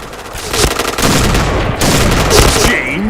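Dense rapid gunfire from the Point Blank video game: overlapping automatic bursts and sharp shots, loud and nearly continuous throughout.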